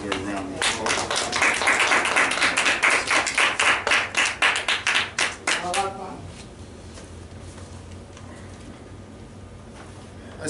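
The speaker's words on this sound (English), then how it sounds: "Let's give Dr. Rizvi Muhammad a well-deserved round of applause." Audience applause for a guest at a speaking event, rhythmic clapping from a modest crowd that builds and then fades out after about six seconds, leaving quiet room tone.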